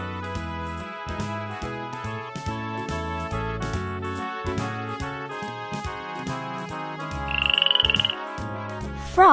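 Frogs croak in a rapid series of short, resonant calls, fairly loud and close, with a brief higher chirping burst near the end.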